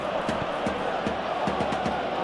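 Stadium crowd roar from a simulated Champions League football match between PSG and Newcastle, a steady, dense wash of massed voices with a few soft thuds scattered through it.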